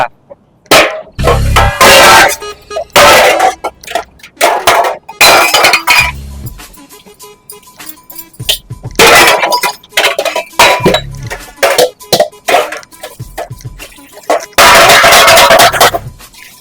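Dishes and pots clattering and clinking loudly in repeated bursts, like steel utensils knocked together while being washed in a sink at home.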